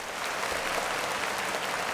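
Short burst of applause, an even wash of many hands clapping at moderate loudness with no voices over it.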